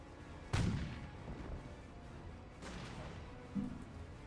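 Gunfire from the World War II strategy game Company of Heroes, with rounds fired above hedges: a sharp loud crack followed by a lighter burst and a third thump, spaced over a low rumbling battle bed.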